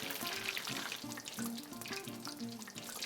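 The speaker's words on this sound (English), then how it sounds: "So here we go, Modiga steak into the oil." A Mudica steak fries in hot oil in a pan, giving a soft, continuous crackling sizzle with a quiet, busy texture from start to finish.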